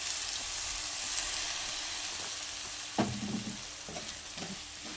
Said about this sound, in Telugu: ఒక 2 మినిట్స్ ఇలా మిక్స్ చేసేసుకోవాలండి.